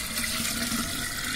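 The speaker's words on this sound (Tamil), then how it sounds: "சோறு வடித்த கஞ்சி தண்ணி ஊற்றுறேன்." Rice starch water drained from cooked rice pours in a steady, close stream into a cooking pot for a village-style meal.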